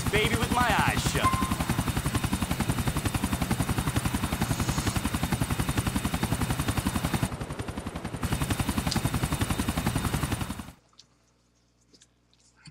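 A helicopter in GTA 4 on PS3, its rotor thumping in a steady, loud, rapid pulse for about ten seconds, then cutting off abruptly into near silence.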